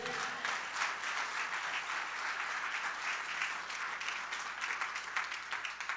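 A church congregation applauds steadily for several seconds, a dense wash of clapping that stays even and moderately loud throughout.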